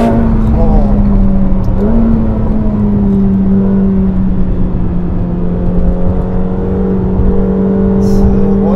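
A 2025 McLaren 750S accelerates hard along a winding road, its engine note loud and steady with a rising pitch and a brief shift, heard from close by with some road and wind roar.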